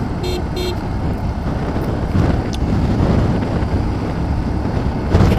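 Car driven along a road on a ride through Jharkhand, with a steady low engine and road rumble, wind buffeting the microphone, and a couple of short horn toots early on.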